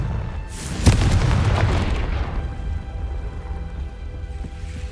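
A Confringo blasting spell explodes in Hogwarts Legacy: one loud, sharp boom lands early, followed by a crackling, rumbling decay that fades into low ambient game noise.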